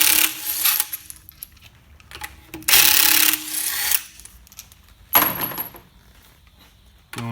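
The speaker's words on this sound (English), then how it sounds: "Wheel nuts on the side step. Drop one, you get that." A metal wheel nut dropping onto a car's side step gives a few sharp metallic clinks and a short rattle, close by, between quiet stretches with no talk.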